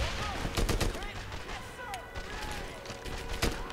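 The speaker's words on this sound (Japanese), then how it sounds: "めっちゃ銃声で聞こえるけど" Gunfire in the World War II shooter Medal of Honor Airborne: sharp shots crack out in scattered bursts amid a busy battle din, some loud and close, others more distant.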